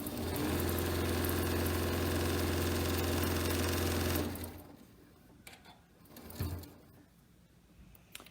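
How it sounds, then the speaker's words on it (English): A sewing machine edge-stitching a fabric napkin runs in a steady, close whirring hum for about four seconds, then stops, leaving quiet handling noises. "we're going to do our edge stitching on our napkin"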